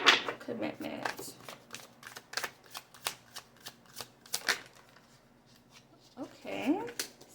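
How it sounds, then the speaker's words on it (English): Tarot cards being shuffled, a run of quick, close riffling flicks and slaps at an uneven pace, with a person speaking softly at the beginning and again near the end. "I'm going to give that one more shuffle though."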